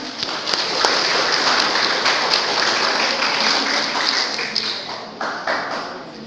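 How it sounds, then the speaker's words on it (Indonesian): A church congregation claps steadily in loud, sustained applause that fades slightly toward the end. "Boleh tepuk tangan pemudanya?"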